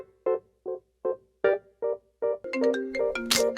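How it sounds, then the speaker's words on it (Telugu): A mobile phone rings with an incoming call: seven short evenly spaced tonal beeps, then a louder, busier melodic ringtone phrase, close and clear with no talking. "ఇదేంటి మేనేజర్ గారు ఫోన్ చేస్తున్నాడు"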